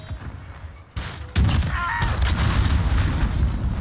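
A cruise missile strike in Modern Warfare at Hackney Yard begins with a soft thud and then breaks into a loud, sustained rumbling barrage of explosions that keeps roaring to the end.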